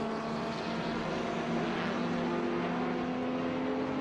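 Racing cars, among them a BMW, roar past at Watkins Glen in a historic race, a dense, constant engine drone with a steady tone, loud and unbroken throughout.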